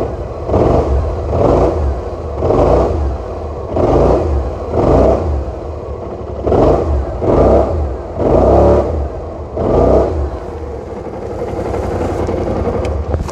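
BMW C600 scooter with a completely stock, unmodified exhaust, revved repeatedly at close range: about ten rhythmic throttle blips rising and falling over a steady idle, loud with no talking.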